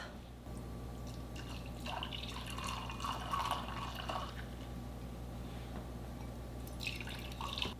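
Brewed coffee pours from a glass Chemex into a cup, a steady liquid stream with a continuous trickling wash that swells slightly toward the middle, close and moderately quiet, with no talking.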